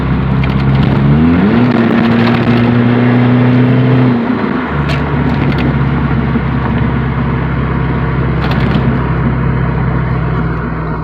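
Straight-piped GM 2.2L car engine pulling hard, loud and close, its raw exhaust drone climbing in pitch and holding high before easing to a steady lower roar.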